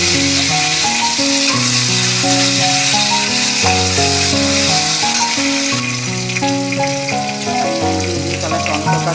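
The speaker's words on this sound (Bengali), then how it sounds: "তেজপাতা দেবো, পনিরটাকে রান্না করে নেব" Paneer fries with bay leaf in a hot pan, producing a loud, continuous sizzle and crackle with music playing underneath throughout.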